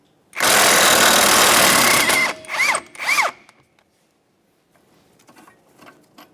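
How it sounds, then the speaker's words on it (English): A power tool, likely an impact wrench, buzzes loudly as it spins out a 14mm pinch bolt on the front suspension of a 1994-1997 Honda Accord 2.2L. A long run is followed by two short bursts, then faint clinks. "Go ahead and remove that bolt."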